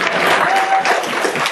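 Applause from a live audience at a talk event, a dense, steady wash of many hands clapping close and loud throughout, with a faint murmur of crowd underneath.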